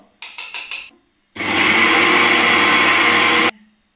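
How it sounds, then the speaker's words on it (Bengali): A mixer grinder blends an ice cream mixture made with Amul milk: a few short pulsed bursts, a pause, then a loud sustained whirring run of about two seconds that stops abruptly. "এটা আমি আর একবার মিক্সার গ্রাইন্ডে দিচ্ছি"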